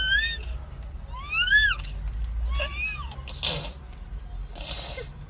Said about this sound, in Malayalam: പൂച്ചക്കുഞ്ഞാണിത്